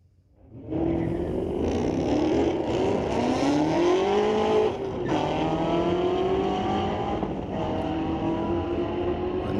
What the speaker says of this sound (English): A nice note out of that Mustang.